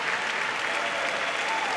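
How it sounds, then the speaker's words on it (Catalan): An audience at a 2022 academic graduation ceremony claps steadily, a thick, continuous wash of many hands applauding at even loudness, with no single clap standing out. "Una mica més d'aplaudiments, no?"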